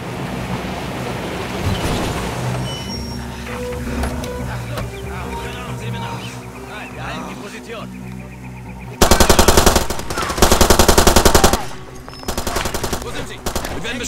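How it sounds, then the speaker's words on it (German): Automatic gunfire in the video game Far Cry 2, with two long loud bursts of rapid machine-gun fire near the end plus a shorter burst after, over background game ambience and water-like noise. "Wir werden beschossen, wo kam das her?"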